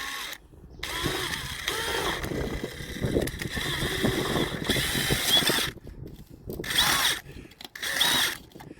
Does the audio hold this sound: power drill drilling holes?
yes